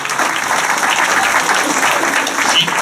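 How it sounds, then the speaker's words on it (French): Steady, close applause from an audience at a New Year's wishes and awards ceremony in a French village hall, dense clapping throughout with a few faint voices mixed in. "Alors je crois qu'on peut l'applaudir"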